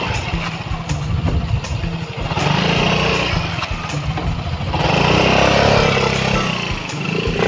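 A motorcycle engine runs nearby with a steady, buzzing idle that swells slightly in loudness toward the end.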